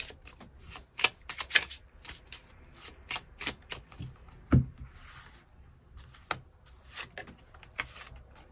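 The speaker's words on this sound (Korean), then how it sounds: "추가 카드 뽑아보도록 하겠습니다" Tarot cards being shuffled in a quiet room, a run of crisp riffling bursts and soft slaps with short pauses between them, close and fairly loud, no one speaking.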